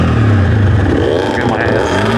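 Dirt bike engines revving hard at the start of a drag race, loud and close with rising, rough engine tones over a short burst.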